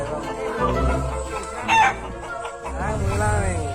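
Chickens crow and cluck together close by, with overlapping calls and a rising crow near the middle over a busy, steady farmyard background.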